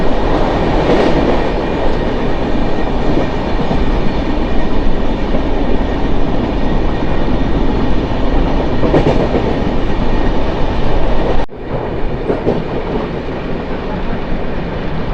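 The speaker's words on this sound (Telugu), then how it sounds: "తిరుగుతూనే ఉన్నాయి అలా లోకల్ ట్రైన్స్" Mumbai local trains run past near Kurla railway station, a loud, continuous rolling roar of wheels on rails with faint clatter over joints and a brief dip near the end.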